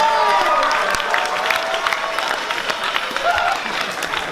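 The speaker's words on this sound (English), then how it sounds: "Get another round of applause for the fall play." Applause from an audience at a community meeting for the fall play fills the clip, a dense, steady wash of clapping with some cheering mixed in.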